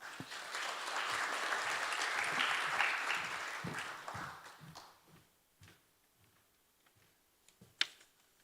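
A forum audience at a Seoul Olympic legacy event breaks into full applause that swells, then thins over several seconds into scattered individual claps. A final few isolated claps and a louder knock come near the end.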